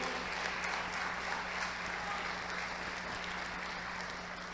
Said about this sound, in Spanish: Alguien dele un fuerte aplauso al Señor.